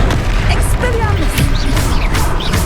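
In Hogwarts Legacy combat, the Expelliarmus disarming spell is cast, with a burst of magical whooshes and impacts mixed into dense game action, loud and close, while a voice speaks over it.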